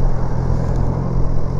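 A car rumbles steadily close by while passing a BMW S1000XR motorcycle on the road, a continuous loud low drone with engine whir throughout.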